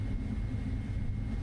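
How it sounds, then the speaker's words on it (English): A steady, low engine drone from an aircraft taxiing in Microsoft Flight Simulator 2024 holds even and continuous at moderate volume, with no other sounds over it. "As we're taxiing away here."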